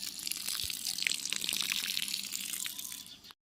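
Cauliflower seedlings being watered outdoors, a steady splashing, hissing pour of water onto soil lasting about three seconds before stopping abruptly.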